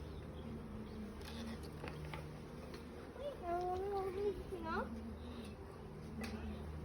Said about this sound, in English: There's something angry buzzing around my head.